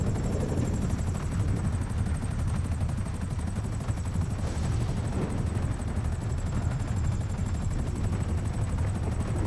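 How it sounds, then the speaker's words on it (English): A helicopter in GTA V flies through strong winds over a stormy waterfront, its steady, loud rotor wash roaring continuously with no pauses and no talk over it. "Very hard to control this chopper with these winds."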